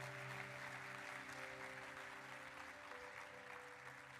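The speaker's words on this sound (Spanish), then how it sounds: "Dale un fuerte aplauso al Señor." Church congregation giving a strong round of applause during a sermon, a faint, steady spread of clapping over a sustained organ-like musical drone.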